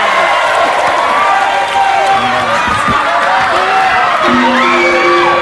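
Loud, continuous applause and cheering from a TV studio audience for Dewi Persik on a talk show, with whoops and shouts riding over dense clapping and music tones sounding underneath.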